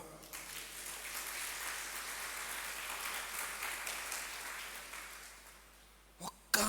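A congregation at a Friday church service applauds in a steady, faint and distant wash of clapping that lasts several seconds, then fades out.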